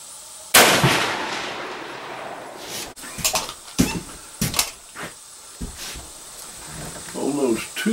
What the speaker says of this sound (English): one shot don't tell you much, so do a couple more here.